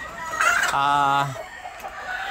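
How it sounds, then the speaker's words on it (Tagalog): A hen gives a short run of clucks, a brief harmonic call that trails off into quiet background noise. "Again, this is my hen."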